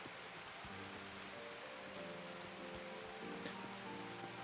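Steady rain patters continuously in the video game Escape from Tarkov, with faint scattered droplet ticks, an even wash of noise without any voices.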